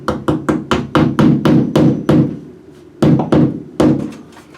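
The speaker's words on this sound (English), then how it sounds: "tap it until it's flush" A hammer taps a molly anchor into a wall: a quick run of about eight sharp, solid knocks, a pause, then a few more blows, close and loud with a dull thud to each strike.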